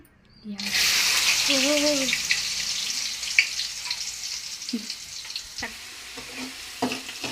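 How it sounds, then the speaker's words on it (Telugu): Soaked chana dal dropped into hot oil, a sudden loud burst of frying that settles into a steady sizzle with faint clinks, a short hum and brief voice sounds over it. "ఈ ఆయిల్లో బాగా శనగపప్పు మంచిగా వేగాలి గోల్డ్ కలర్లోకి రావాలి"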